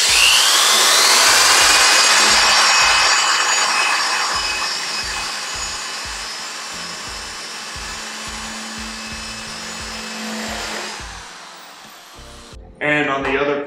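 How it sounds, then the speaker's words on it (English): A loud power drill with a 1/2 inch bit whines steadily for several seconds boring a hole in a pole, then its pitch drops and it winds down, with a brief clatter at the end. "I'm going to use a 1/2 inch bit to drill a hole just on one side of it"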